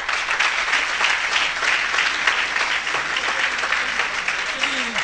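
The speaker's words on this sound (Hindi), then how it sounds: "आपकी भरपूर तालियों में अदनान कियानी।" Sustained theatre audience applause at a stage ceremony, a thick continuous roar of many hands clapping at even loudness, with faint voices rising underneath near the end.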